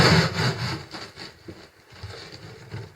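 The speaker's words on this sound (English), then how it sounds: "As I scrub each little piece, I can see the soap scum and the dirt going away." A brush scrubs soap scum off a shower floor in rhythmic back-and-forth strokes, close and fairly soft, with brief pauses.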